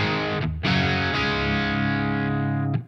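Heavily distorted electric guitar through a Quad Cortex pedal preset rings out in two thick, sustained chords, loud and saturated with a slight shimmering modulation, no voices.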